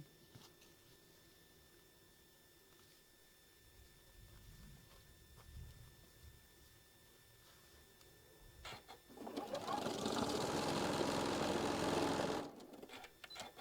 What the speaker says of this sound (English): And then sewing the last one on.